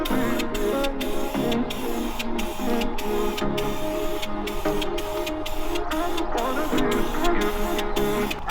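High-temperature primer sprays from an aerosol can onto engine valve covers of a Pontiac Fiero, a loud hissing in rapid, regular short bursts with brief gaps, steady and close.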